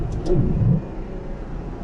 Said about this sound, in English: Still hear a remarkable amount of the noise inside the car.